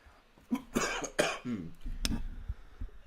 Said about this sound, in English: you get to hear me cough and clear my throat